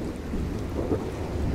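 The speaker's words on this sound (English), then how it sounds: "That's thunder from that direction." Distant thunder rolls as a low, steady rumble, with a soft hiss of rain.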